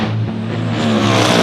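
Drag race car powered by a 426 Chrysler Hemi, its engine roaring loud and steady with a strong low rumbling drone that builds slightly toward the end, no voices.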